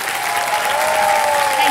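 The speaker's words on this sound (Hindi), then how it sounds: "तालियां मज्जा इनके लिए।" Studio audience on the quiz show Kaun Banega Crorepati breaks into brief, dense, loud applause, a continuous wash of clapping with a tonal music or voice line running underneath.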